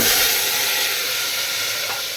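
Vegetables dropped into a little hot oil with half a bay leaf and cumin for a paneer dish, giving a loud, steady sizzling hiss that fades only slightly over a couple of seconds.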